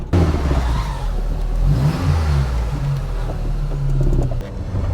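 A VW Mk1 Caddy with a 20V turbo engine pulls away with a loud, close rumbling drone that rises slightly as it accelerates. The engine note dips near the end.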